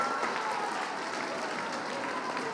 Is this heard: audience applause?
yes